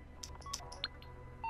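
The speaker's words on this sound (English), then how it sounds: "Take out your phone and trigger the door." A phone in GTA 5 used to trigger a bank vault door, a quick series of soft electronic dialing beeps and tones, quiet and close.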